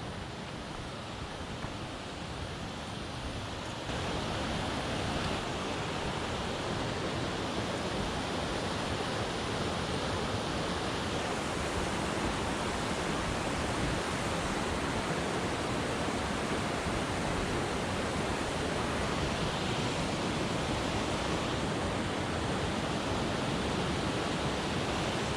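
Water of Fish Creek cascades steadily below a footbridge, a loud, continuous broadband rush that holds unbroken for the whole stretch and swells slightly after the first few seconds.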